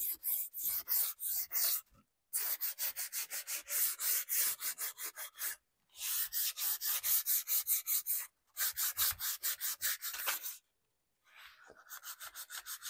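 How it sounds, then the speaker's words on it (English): Rhythmic back-and-forth scraping of sandpaper by hand on a wooden antique furniture piece, close up, in bursts of rapid strokes separated by short pauses. "So I am going to do just a little stuff sanding."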